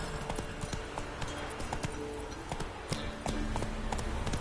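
Hooves of the horse Roach clopping at pace in a video game, a quick uneven rhythm of soft thuds close by, heard alone.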